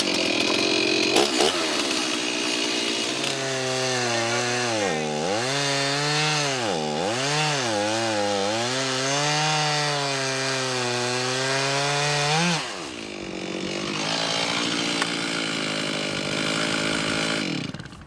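A chainsaw cuts into a tree stump beside a building, its loud, close engine holding a steady whine that dips and rises as the bar bites, then drops off toward the end.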